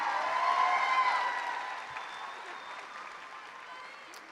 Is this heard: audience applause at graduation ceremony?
yes